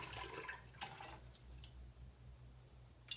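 Water poured into a pot of chicken broth: faint splashing and trickling liquid with a few bright drips early on, settling into a low gurgling wash, close but quiet, no voices.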